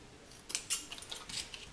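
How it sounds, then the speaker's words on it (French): Scissors snip to trim excess paper during a folding craft, giving a quick run of several light, crisp cuts close by with no talking. "Avec le ciseau, ça ira très très bien."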